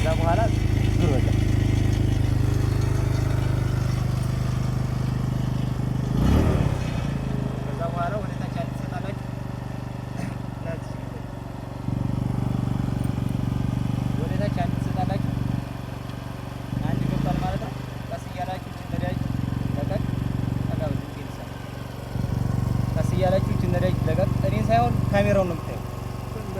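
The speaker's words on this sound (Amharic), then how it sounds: "ከዛ ተነሳ ማለት ነው ሞተሩ" A motorcycle engine runs steadily after being started, a low, even idle hum with small surges in level, close by, with occasional voices at moments.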